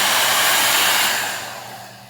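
A MonoMono Dreamworld hair dryer blows with a loud, steady airy whoosh close by, then its roar eases and fades toward the end, with no voices.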